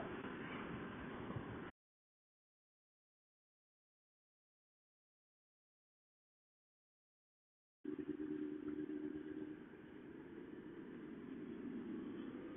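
A 2002 Yamaha FZS 1000 Fazer motorcycle pulling out of a roundabout with a steady engine drone and wind rush. The sound cuts out into a long silent gap, then returns at the same steady level.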